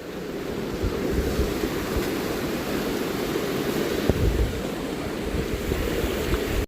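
A fast-flowing monsoon stream on a trek near Matheran's Garbett Plateau rushes in a steady, broad roar that stays close and loud throughout, with some wind buffeting and no speech.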